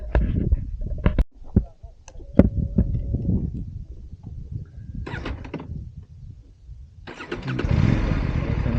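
An Aprilia RS 457 sports motorcycle starts with clunks and brief mechanical knocks, a short cranking burst around five seconds, then the engine catching into a loud, close, rising idle roar near the end.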